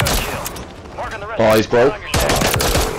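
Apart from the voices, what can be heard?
gunfire in a video game shootout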